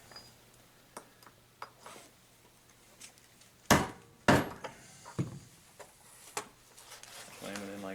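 A die punches a hole through carbon laminate sail material for a radio-controlled sailboat, giving two sharp, loud impact strikes close together amid scattered lighter taps and handling knocks, with talk nearby.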